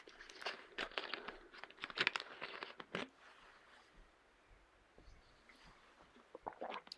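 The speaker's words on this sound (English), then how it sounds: "So I'm just trimming down the edges that I have cut already." Scrapbooking paper being trimmed along its edges gives crisp, close cutting and crinkling sounds, a busy cluster of snips and rustles at first, then quieter handling, with a few more at the end.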